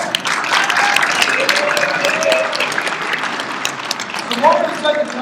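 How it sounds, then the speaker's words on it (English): Applause from an audience at a Libertarian Party of Mississippi gathering, steady and fairly loud clapping with cheering voices mixed in throughout. "Give them a big round of applause."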